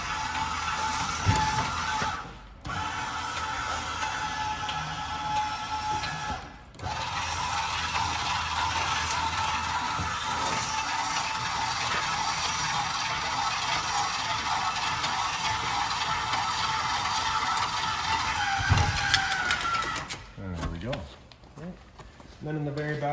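The electric stabilizer jack on a 2022 Pioneer BH322 travel trailer whirs steadily for about twelve seconds as it extends downward, someone speaking before and after the motor run.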